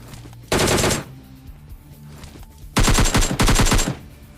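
Two close, loud bursts of rapid automatic gunfire from a PUBG Mobile Lite match, the first short and the second longer and stuttering, separated by a quiet gap.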